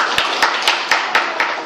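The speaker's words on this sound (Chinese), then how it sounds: "刚刚没开还是可以鼓掌" Classroom audience clapping together in a steady unison rhythm, six even claps about four per second, fairly loud and close.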